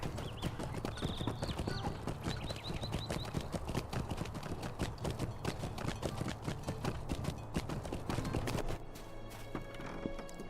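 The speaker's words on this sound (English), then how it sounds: "we are going to head on over to the stable master and catch us a ride over to Celandem" Horse hooves clip-clop steadily throughout a stable master's ride to Celandem in Lord of the Rings Online, with a brief whinny early on and a dense, continuous rhythm that drops slightly in level near the end.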